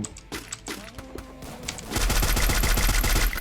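An XM8 rifle fires in the video game Free Fire, starting with scattered single shots and then breaking into a loud, rapid automatic burst that pounds steadily for over a second, close and dominant.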